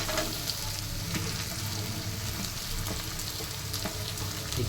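Chopped onions and curry leaves sizzle steadily in hot oil for a chicken masala gravy, with occasional scrapes and clicks of stirring over a continuous close frying hiss and no voices.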